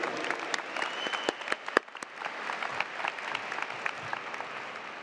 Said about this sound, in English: Let's give a big round of applause for our LISD administration.